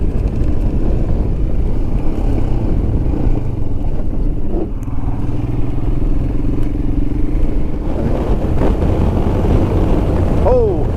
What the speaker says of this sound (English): the old motorcycle's just running like a charm, like a dream